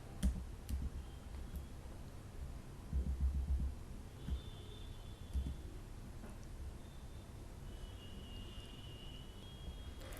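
Someone types an Excel formula on a computer keyboard, producing sparse, quiet key clicks and a short cluster of taps over a low room hum.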